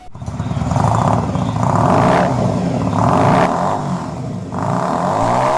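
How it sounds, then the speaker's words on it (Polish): A 125cc motorcycle with loud exhausts roars nearby, rising and falling through several revving pulses with a rough, throaty drone underneath. "Wydechy drą się jako szalałe."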